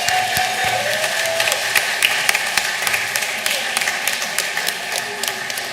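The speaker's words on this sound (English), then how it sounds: "let's give a round of applause to all of our Sagalas" Audience applause for the Sagalas at a Santacruzan crowning event: a dense patter of clapping throughout with a few sharper claps standing out, a soft voice or tone briefly audible early on.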